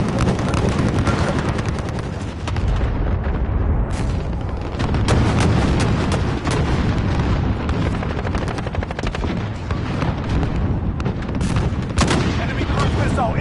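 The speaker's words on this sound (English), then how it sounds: "Allied cluster strike inbound." Cluster strike explosions rain down in a multiplayer war video game: dense, rapid booms and cracks of gunfire pile up continuously at close range, with a brief lull near the start and players talking underneath.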